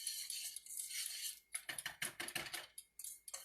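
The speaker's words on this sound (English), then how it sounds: "I'm using a whisk." A whisk stirs flour into melted butter in a pan, making rapid metallic clicking and scraping against the pan that starts as a steady rattle and breaks into quick irregular strokes, close and fairly quiet.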